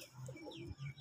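A high-quality flying pigeon gives soft, low cooing, a brief faint murmur heard close with no talk.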